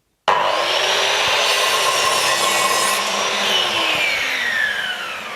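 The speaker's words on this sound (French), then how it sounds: "Ce qui nous permet ainsi de venir faire une découpe en ayant basculé la tête de la scie à gauche à 45 degrés." A Metabo KS 216M miter saw with its head tilted 45 degrees left cutting through wood, a loud continuous whining motor with rasping blade noise, steady throughout and winding down at the end.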